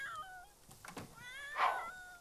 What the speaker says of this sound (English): Oh, it's a ginger cat.